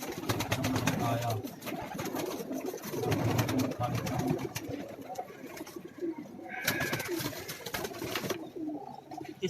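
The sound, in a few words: pigeons cooing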